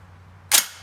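Single sharp blast from a Citadel Boss 25 semi-auto 12-gauge shotgun firing double-aught buckshot at a steel target 25 yards away at a range, a sudden loud crack after a quiet hum, decaying quickly.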